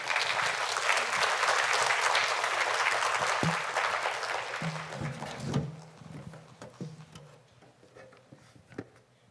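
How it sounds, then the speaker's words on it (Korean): A church congregation at a Wednesday worship service applauds to welcome a guest speaker, dense clapping that fades after several seconds into scattered claps and soft room noise. "박수로 환영하도록 하겠습니다."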